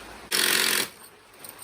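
A Makita cordless drill drives a screw into timber on a pond's wooden frame, one loud burst of about half a second that stops sharply, then quiet background noise.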